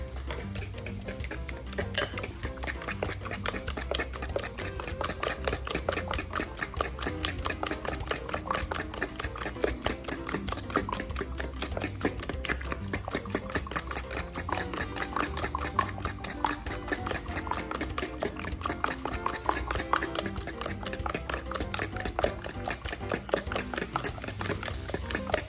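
Batter stirred in a bowl after a spoonful of vanilla extract goes in, a steady, fast run of close utensil clicks and scrapes against the bowl that keeps going without a break, with no voices.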